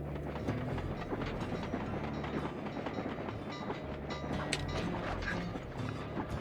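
Train rolling along the tracks in the Sly 2: Band of Thieves game, a steady rumble of rail noise with clattering, ratchet-like clicks running continuously at an even level, with no talk over it.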